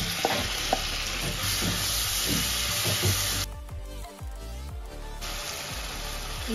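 Chicken marinade masala sizzles in butter in a kadhai on a gas stove, a steady close frying hiss with stirring scrapes, briefly quieting midway before the sizzle returns at full strength.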